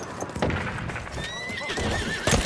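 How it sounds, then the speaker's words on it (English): A horse in the video game Battlefield 1 gives a loud, wavering neigh as its hooves clip-clop nearby, mixed with battlefield noise and short bursts of gunfire. "Oh, horse? Horse?"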